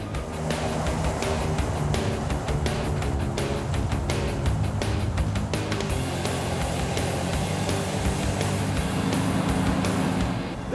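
A huge custom boat-tail car built from a firetruck on a super single semi chassis cruises the Fort Lauderdale strip, its engine and road noise a steady, loud rumble throughout with wind and traffic around it.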